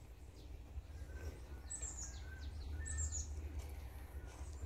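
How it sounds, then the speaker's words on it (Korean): Birds sing around a rural countryside house in the mountains of Gyeongnam, South Korea: scattered high chirps and short tweets, faint and somewhat distant, over a low background rumble in a quiet setting. "가만히 들어보시면 새소리가 진짜 많이 들리거든요"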